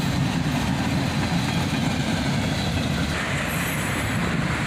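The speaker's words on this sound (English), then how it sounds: "And a cut of auto racks brings up the rear of the train." A CSX freight train rolls past with a cut of auto racks at the rear, a steady loud rumble of wheels and cars that holds throughout without pause.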